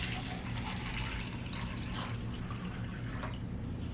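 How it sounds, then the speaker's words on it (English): Water from a sink tap fills a cup for a celery science experiment, making a steady, close hiss of flowing water with faint dripping over it. "the first thing you're going to do is you're going to fill up your cup with water."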